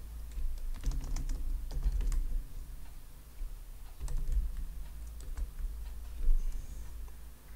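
Fingers typing on a computer keyboard while entering a database backup command on a Debian 9 server, rapid clusters of light clicks with brief pauses between bursts, close by and with no talk.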